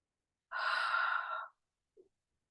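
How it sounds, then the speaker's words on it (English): A single forceful breath pushed out through the mouth with a "ha" during a yoga breathing exercise, about a second long and close, followed by a short soft sound. "Inhale through the nose, exhale with a ha."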